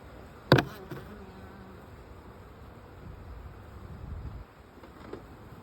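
Honeybees hum faintly and steadily at an opened, established hive, a soft continuous buzz with a brief knock near the start and no voices.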